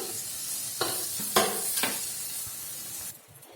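Prawns frying in a wok for a yogurt prawn curry, a steady close sizzle with a few louder stirring clatters, cutting to quieter sound near the end.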